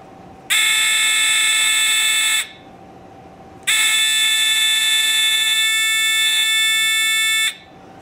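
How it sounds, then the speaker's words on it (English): A loud, steady electric buzz sounds twice, each burst lasting about two seconds, with a short pause between them. "it also makes a little bit of kinetic energy. This thing is vibrating so much, producing sound"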